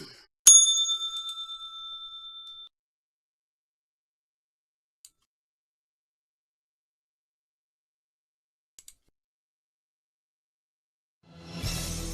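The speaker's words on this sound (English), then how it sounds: "Oh, bell." A single bright bell strike rings out clearly and decays over about two seconds, followed by long near-silence with a couple of faint ticks and some soft noise at the end.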